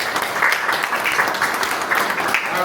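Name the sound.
audience applause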